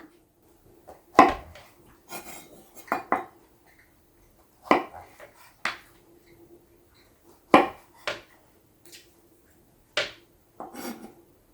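A knife cuts sweet bee mushrooms into small pieces on a board, giving sharp, irregular chopping knocks and scrapes with short pauses between them, close by and fairly quiet.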